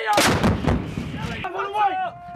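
A USMC howitzer fires a single round during an air assault training course, making a loud, close blast that rolls off into rumble. Shouted voices follow a moment later.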